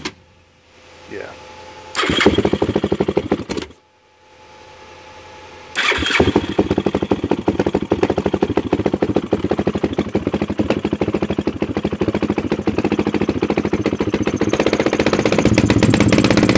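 A Yamaha YFZ450 quad with carburetor trouble cranks and catches, then its engine runs loud and rough, sputtering and failing to rev out cleanly over several seconds, close by.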